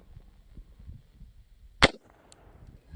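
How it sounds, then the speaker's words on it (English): A single sharp gunshot from a Glock 48 9mm pistol at a shooting range, one loud crack at mid-clip followed by a brief decaying tail over low background rumble. "we shoot the gun"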